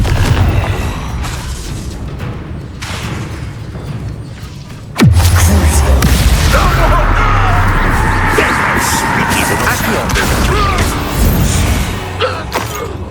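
A Confringo blasting spell in Hogwarts Legacy sets off a sudden loud booming explosion with a sharp whoosh, followed by a long crackling, rumbling tail and debris noise that stays loud for several seconds.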